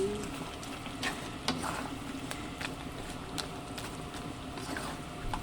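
Chicken sarciado being stirred in a pan, giving a soft continuous sizzle with scattered faint scraping clicks, low and steady throughout.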